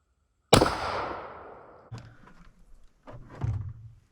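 A single sharp, loud blast from an antique Winchester Model 25 shotgun fired at a target, followed by a decaying rumble and a few fainter thumps afterward.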